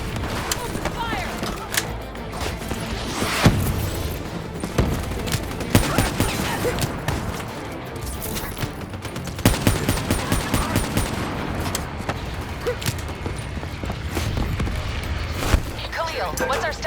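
Dense, sustained gunfire from a Call of Duty: Black Ops III firefight, with rapid automatic bursts and heavy volleys running loud throughout, and voices heard in the mix.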